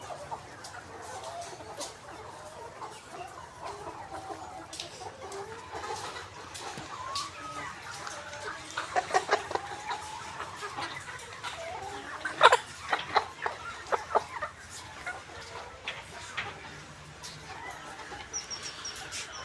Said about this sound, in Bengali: খুব সুন্দর মুরগিগুলো